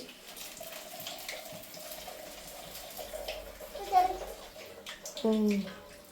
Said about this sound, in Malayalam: ഞാൻ ചായ ഊറ്റാൻ പോണു ആ ചായ ഊറ്റാൻ പോണു